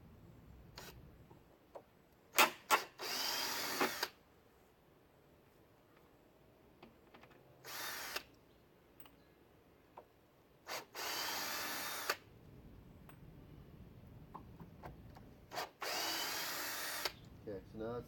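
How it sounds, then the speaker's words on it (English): A power drill backs screws out of a board in short bursts of high whine, about six runs separated by quiet pauses with small clicks and handling noise. "now the next thing I have to do is I have to take all these screws out"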